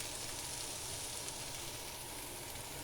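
Tomato chicken sauce simmers in a pan with a steady, dense sizzling hiss throughout, close and even, with no talking.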